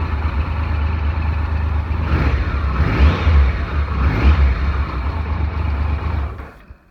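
An earlier Triumph motorcycle engine idles steadily with a healthy sprag clutch and no rattles, blipped a couple of times into brief revs before cutting off near the end, close and loud.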